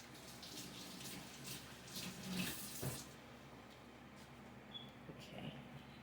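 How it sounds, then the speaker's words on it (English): Hands washed under a running kitchen tap, a steady faint stream of water with soft splashing and rubbing, continuous and fairly distant, with no one talking. "I'm going to wash my hands again."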